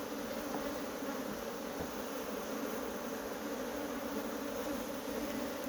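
Honeybees at a smoked hive in Guyana hum in a steady, dense buzz while feeding on syrup, a close and continuous drone with no voices.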